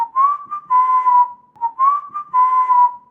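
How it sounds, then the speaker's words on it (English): A person whistles a short tune alone, with clear bright notes in two repeated phrases, each a quick rising blip followed by a longer held tone, close and loud. "whistle"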